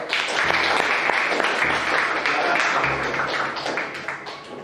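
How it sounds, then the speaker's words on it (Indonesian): A classroom audience gives a presenting group applause, irregular claps and taps sounding close and moderately loud, with low thumps scattered underneath and a slight fade at the end. "tepuk tangan yang meriah untuk kelompok 2"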